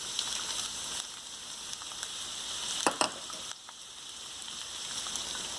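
Onions frying in hot oil for a breakfast burrito, a soft continuous hiss with a few clattering stirs near the middle, quiet and close.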